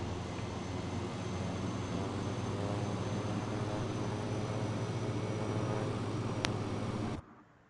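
Jet airliner in Microsoft Flight Simulator 2024 on the landing rollout with reverse thrust engaged: a steady, loud broadband engine roar holding for about seven seconds, then cutting off abruptly, with no one talking.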